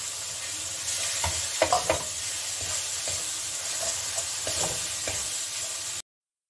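Ginger-garlic paste fries in a pan with dry ground coriander for a Bengali jackfruit curry, a continuous close sizzle broken by a few louder stirring scrapes and spatters, ending abruptly in silence.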